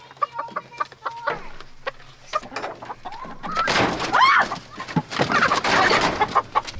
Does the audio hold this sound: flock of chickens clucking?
yes